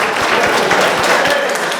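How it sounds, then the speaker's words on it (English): Audience applause at an event about Bentley cars, a loud, close burst of many hands clapping that runs steadily through the short stretch with a few distinct nearby claps. "please, give her a round of applause"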